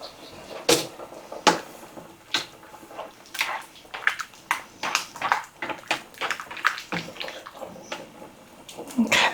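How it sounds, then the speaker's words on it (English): Spaghetti being stirred in a pot of water, with repeated soft sloshing and scraping strokes in an uneven rhythm, fairly close and moderate in volume. "I'm going to take a break and stir my pasta."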